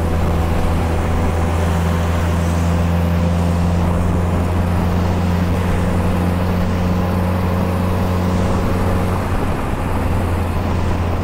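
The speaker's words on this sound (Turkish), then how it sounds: "Araba tabii bayağı bir uğultu yapmaya başladı." A 1944 Willys MB military jeep engine hums and drones steadily as the vehicle climbs uphill in low gear, a loud, close, constant tonal roar with a deep rumble that holds for about eleven seconds.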